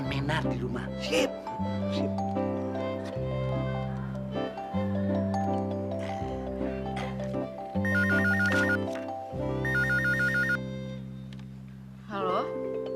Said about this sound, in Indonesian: Sekarang kita telepon Non Menar di rumah